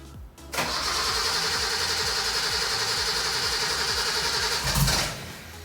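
A Nissan Fairlady Z S30 that will not start, in a DIY project with lowered suspension, cranks on its starter in a steady, rhythmic whirring churn for about four seconds, loud and close, then winds down.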